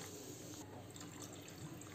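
Water pours steadily into a pot of kadhi batter while it is being mixed, a soft continuous splashing and trickling that stays close and fairly quiet throughout, with no voices.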